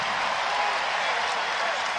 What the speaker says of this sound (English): Here the applause again for Bradshaw.